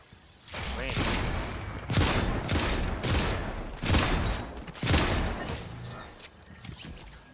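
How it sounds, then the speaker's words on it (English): Video-game gunfire from enemies comes in repeated loud bursts and volleys, several heavy clusters of shots close together, with players' voices talking between them. "Are they shooting at us? Yeah, they are."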